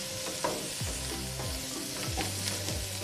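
Chopped garlic sizzling in hot oil in a pan while being stirred, a steady close crackle with repeated scraping strokes of a utensil, no talking.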